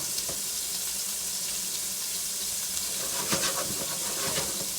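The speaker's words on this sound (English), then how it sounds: "We're just going to let those continue to saute up." Green beans and pork sauté in a hot pan, giving a steady close sizzle with a few faint clinks and stirring noises partway through.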